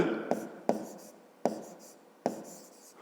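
A pen writes on paper in short, close scratchy strokes, four sharp taps each followed by brief scribbling, quiet and clear against a silent background.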